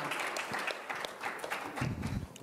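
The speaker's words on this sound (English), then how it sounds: "let's give them one more round of applause" Audience applause for a distinguished panel at a campus event, a steady wash of many hands clapping at moderate distance, with a brief burst of low rumble near the end.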